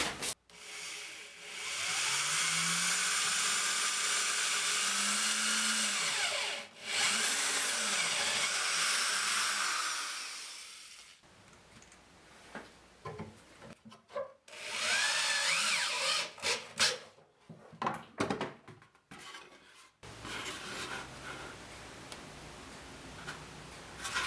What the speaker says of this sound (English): put some screws in from the back.